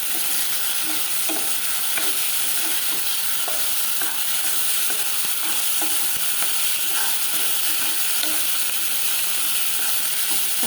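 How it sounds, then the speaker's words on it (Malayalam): Chopped tomatoes sizzle in a hot frying pan for a soya chunks keema masala, a steady loud hiss with occasional stirring clicks and scrapes throughout. "കട്ട് ചെയ്ത് വെച്ചിരിക്കുന്ന തക്കാളി ചേർത്ത് കൊടുക്കുക"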